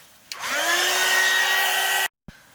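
A handheld heat dryer blows over a round mixed media canvas, switching on with a rising whine into a steady loud whoosh for under two seconds, then cutting off abruptly.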